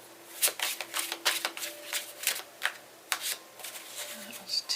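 Tarot cards being shuffled by hand, a close sequence of repeated riffling bursts with short pauses between them, mostly alone with a faint trace of voice.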